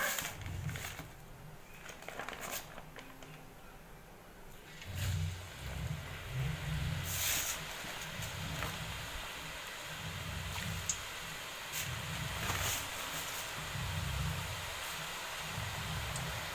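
Rice-flour Manapparai murukku deep-frying in hot oil, giving a faint, steady sizzling hiss with soft bubbling pulses throughout.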